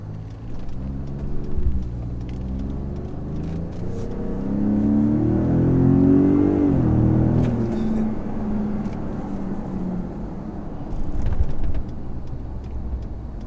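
A Ford Raptor pickup truck accelerates from inside the cab, with a deep engine rumble that rises in pitch through the gears and swells loudest midway before easing to a steady road drone.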